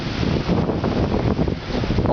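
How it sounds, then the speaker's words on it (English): Strong wind gusts buffet a Eureka Zeus tent, giving a loud, continuous rumbling roar with heavy wind noise on the microphone throughout. "You can see, look at all that wind."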